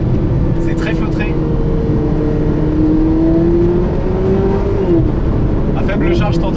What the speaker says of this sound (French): À faible charge, t'entends un petit peu le moteur